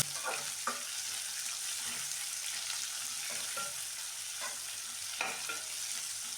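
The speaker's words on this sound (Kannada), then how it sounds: "ಈರುಳ್ಳಿ ಹಾಕಿಬಿಟ್ಟು ಸ್ವಲ್ಪ ಚೆನ್ನಾಗಿ ದಿನ ಬಾಡಿಸ್ತೇವೆ ಸಣ್ಣ ಉರಿ ಇಟ್ಕೊಂಡ್ಬಿಟ್ಟು ನೀಟಾಗಿ ಈರುಳ್ಳಿ ಸ್ವಲ್ಪ ಬೇಯಬೇಕು" Onions frying over a low flame in a pan, with a steady sizzle and a few scraping stirs spaced through it, close and continuous with no talking.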